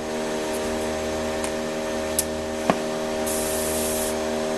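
An airbrush spraying paint onto a ground metal panel, a steady close hiss of compressed air running throughout, with a few faint ticks and a brief louder burst of spray toward the end.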